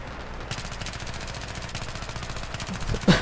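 Player gunfire in Battlefield 3: after a brief quiet start, steady rapid automatic shots hammer away in a continuous stream, swelling louder in the final moment, with no speech.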